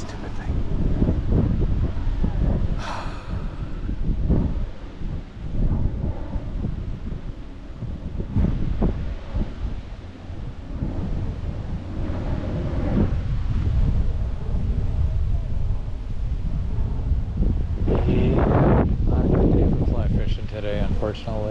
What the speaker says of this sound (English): here comes that damn wind again